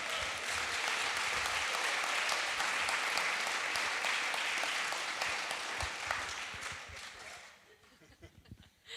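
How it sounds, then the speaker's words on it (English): An audience breaks into loud, sustained applause at a talk on the clean economy, dense clapping that holds for several seconds before thinning into scattered claps and a brief murmur at the end. "And you applauded that."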